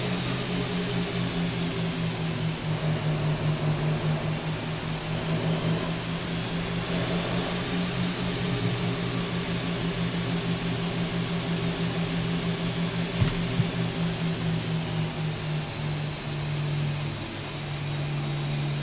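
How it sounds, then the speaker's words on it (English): Boeing 737 jet engines held at taxi thrust in X-Plane 12, a steady, loud whine over a low droning hum that stays nearly constant with only slight swells throughout. "Gotta modulate the thrust to get in here"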